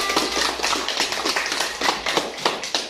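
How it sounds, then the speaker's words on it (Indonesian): Classroom applause for a student, a dense stretch of many hands clapping together without pause, moderately loud and close, with no voices standing out. "Ya, tepuk tangan untuk Desya."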